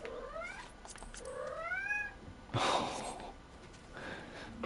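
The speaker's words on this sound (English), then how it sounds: "This cat." A cat gives several short rising meows in quick succession, then a breathy snort or hiss, faint and close by in a quiet room, with no talk.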